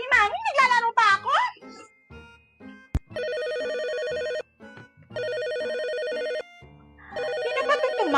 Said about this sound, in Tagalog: Sasagutin mo ba yung telepono?